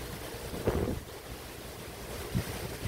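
Wind gusts across a tropical beach at Lemery in the Philippines, a steady rushing roar with surf-like swells and buffeting on the microphone, two stronger gusts standing out and no one speaking.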